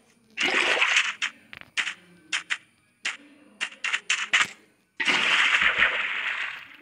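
Water placed in the Minecraft video game, a series of splashy flowing bursts with choppy short clicks between them, the longest whooshes at the start and end, no voices.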